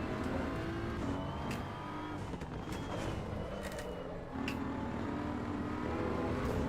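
A race car in the Assetto Corsa EVO sim drones steadily at close range, its engine note shifting with a faint, buzzing traction-control chatter layered over the continuous tone, with no voices.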